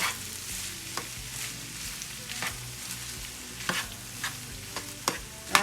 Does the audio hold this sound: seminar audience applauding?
no